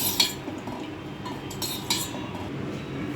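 Ghee melting in a pan while being stirred for sweet laddus, with light metallic scraping and clinks of a utensil against the pan over a steady low background, close and moderately quiet.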